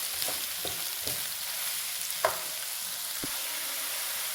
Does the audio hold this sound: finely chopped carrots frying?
yes